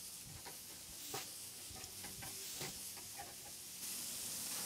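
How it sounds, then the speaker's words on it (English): Burgers set over a direct charcoal fire on a Weber kettle grill give a soft, even sizzle and hiss with light intermittent crackles, faint and continuous, no talking. "I went ahead and got these burgers set up the same way. And all I'm going to do is set these right over the direct fire."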